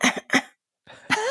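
A voice imitates a cough: two short, harsh bursts close together, a brief silence, then a raspy throat sound that trails into a rough, drawn-out tone.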